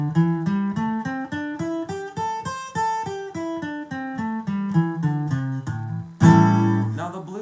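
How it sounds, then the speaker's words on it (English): Electric guitar playing a minor pentatonic scale, single notes picked one after another in a steady rhythm, climbing and then descending, ending on a louder sustained chord, played alone and close. "Here's the minor pentatonic scale."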